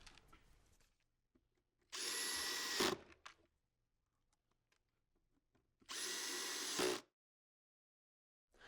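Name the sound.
power drill drilling holes in wood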